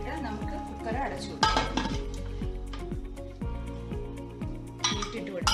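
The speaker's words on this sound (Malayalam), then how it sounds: "നമുക്ക് കുക്കർ അടച്ചു" Metal clanks and clinks from a pressure cooker lid being fitted and closed over beef curry in a home kitchen, with repeated close knocks and rattles under a continuous tonal background.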